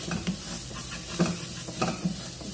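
Tomato masala cooks in oil in a pan, a soft steady sizzle under repeated gentle scraping strokes of a spoon stirring the mixture.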